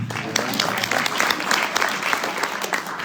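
An event audience bursts into steady, dense applause that holds at an even level for a few seconds, with a faint voice underneath.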